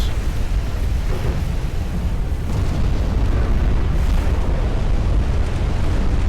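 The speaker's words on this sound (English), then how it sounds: "We finally hit something. 2 torpedoes, installations, and yeah, flash fire. Turret toss." A warship explodes after two torpedo hits in the naval video game Ultimate Admiral Dreadnoughts, set in a 1900 Russo-Japanese war campaign. A loud, continuous rumbling blast and roar fills the whole stretch without pause.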